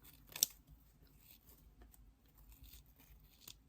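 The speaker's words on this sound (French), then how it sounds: "on va couper un petit peu, il y a un peu de trop, donc je coupe simplement" Scissors snip through excess fabric while a Christmas bauble is made, giving one crisp, close cut followed by quieter, fainter snips and rustles in a hushed room.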